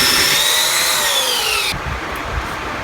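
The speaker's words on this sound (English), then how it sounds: "I take the belt sander and I just dip it right down into that little groove" A belt sander dips into a small radiused groove in wood while building an outdoor shower, a loud steady whine with sliding tonal sweeps that cuts off sharply partway through, leaving a quieter rough rumble.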